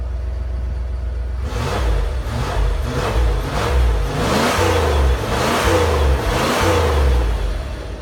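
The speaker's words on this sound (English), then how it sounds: "It's not the best sounding exhaust ever, but hey, does the trick for us" A 1996 Ford F-350 pickup with a new engine revs repeatedly through its exhaust, deep rumbling pulses rising and falling in a steady rhythm, loud and close with no talking.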